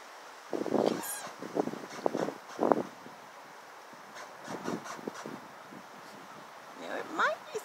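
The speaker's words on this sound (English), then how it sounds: "the branches rubbing against each other." Tree branches rub against each other outdoors, giving irregular creaks and squeaky moaning glides with soft wind and rustling behind them. The sounds come at a moderate distance and are fairly faint.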